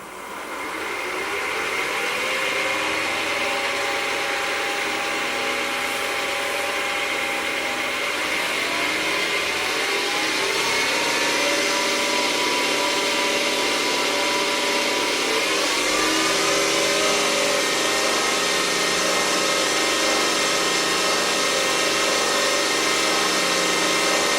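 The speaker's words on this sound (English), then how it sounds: "I think we can probably run the RPM up a bit now." A car engine revs steadily at raised RPM, a loud continuous mid-pitched drone that climbs in pitch around the middle and again near the end, with no talking.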